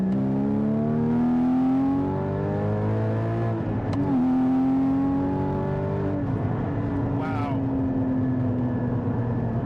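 Porsche 981 Cayman GT4 sports car driven on rough roads, its engine droning loudly from inside the cabin, the pitch climbing steadily through the gears with brief dips at the shifts.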